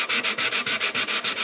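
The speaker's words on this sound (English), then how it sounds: "So I'm going to start just by lightly sanding that area." Rhythmic sanding strokes rub back and forth across a low area of a wood surface being lightly scuffed before gluing, about ten even passes in a steady, close, raspy cadence with no talking.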